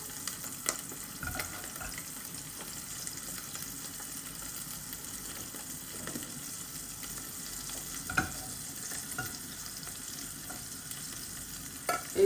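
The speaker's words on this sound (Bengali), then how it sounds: "এখন আমি বাগারটা বসাই দেই।" Tempering spices fry in about two tablespoons of hot oil, producing a steady, close crackling sizzle with scattered stirring clicks and small pops throughout.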